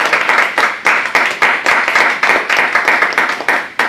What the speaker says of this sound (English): please join me in a warm round of applause for our panelists today